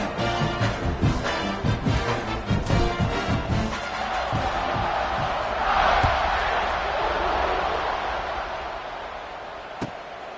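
Football stadium crowd at a kickoff, a broad sustained roar of cheering that swells and holds steady, with scattered sharp thumps and claps early on, loud and continuous throughout.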